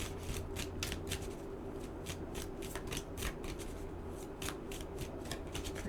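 Deck of tarot cards shuffled by hand, repeated crisp riffling and snapping bursts in a steady rhythm, close and fairly quiet, with no voices.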